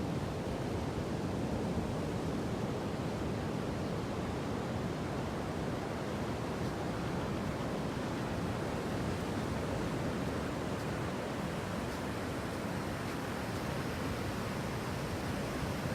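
Steady broadband wash of ocean waves and surf breaking on a shore, a continuous rushing roar with no distinct individual crashes, some wind, no voices.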